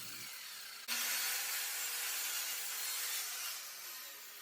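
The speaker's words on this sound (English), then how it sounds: "you just can't beat the power of a corded saw" A powerful corded saw cuts through wood during a DIY closet tower build. A short rub gives way to a loud, continuous rasping cut that runs for several seconds with no talk.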